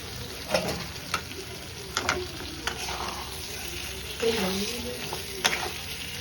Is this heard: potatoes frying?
yes